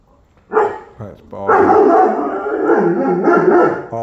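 Dogs at a boarding kennel give a short loud bark, then a long wavering howl and whine, close by and filling the space.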